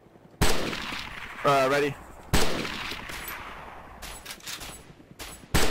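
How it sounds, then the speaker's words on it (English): Gunfire in the video game DayZ: sharp, loud bursts of shots, some in rapid clusters, spaced by short pauses. A voice speaks briefly between the volleys. "Keep firing, keep firing."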